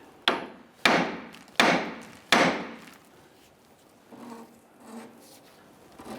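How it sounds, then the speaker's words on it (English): Four sharp hammer blows strike the steering knuckle of a 1999-2004 Jeep Grand Cherokee to free the upper ball joint, evenly spaced and loud with ringing decay, followed by a few softer metallic shuffles. "I'm going to go ahead and strike the knuckle itself to release this ball joint"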